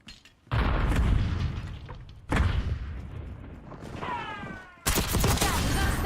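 Concussion grenades go off in the video game Black Ops 6 as three heavy booms, each a sudden loud blast trailing into a rumbling decay, spaced about two seconds apart.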